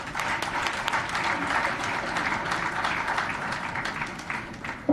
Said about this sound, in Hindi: आप ताली तो बजा रहे हो